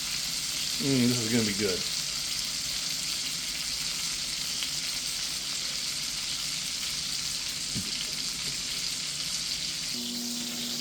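Pork chops seasoned with Himalayan salt and fresh ground pepper sizzle steadily in a pan at the farm, a continuous frying hiss throughout with a brief voice near the start.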